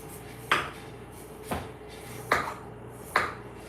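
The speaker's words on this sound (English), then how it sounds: "That's the sound of cutting." Knife cutting a potato on a board, four sharp separate chops spaced roughly a second apart, close and clear over a low steady background hum.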